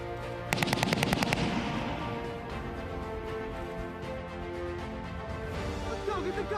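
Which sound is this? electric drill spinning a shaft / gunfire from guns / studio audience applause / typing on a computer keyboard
gunfire from guns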